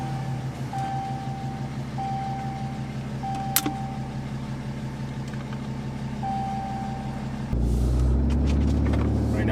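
Ram 2500 with a Cummins diesel engine and a tuning upgrade, heard from inside the cab on a test drive: a steady low engine drone with faint intermittent chimes, then a louder, deeper surge of engine and road noise near the end.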